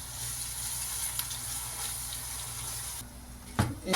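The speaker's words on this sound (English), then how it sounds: "this is 1 kg rice. Let us wash and keep aside." Water runs and splashes steadily over one kilogram of rice being washed in a bowl, a close continuous trickle and slosh, ending with a brief stronger splash.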